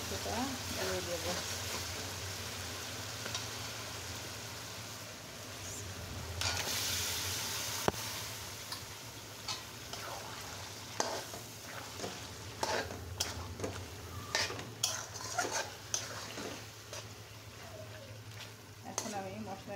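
Meat tipped into spice paste already fried until the oil separates, sizzling steadily with repeated scraping and stirring strokes over a low hum, close and moderately loud.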